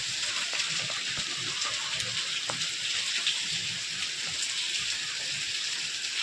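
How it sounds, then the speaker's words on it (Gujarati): Steady hiss of monsoon rain falling without a break in Gujarat, with faint clicks and thumps underneath. "બાયણે વરસાદનો અવાજ આવે, વરસાદ ચાલુ છે."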